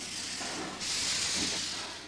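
A 1900 American-built Baldwin steam locomotive, running in the Andes, releases a sustained broadband hiss of steam that swells louder partway through and stays steady, fairly close, with no talking.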